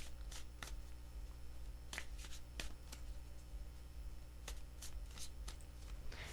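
Tarot cards being shuffled by hand, a few quick riffling bursts spaced across the stretch, close and crisp in an otherwise quiet room.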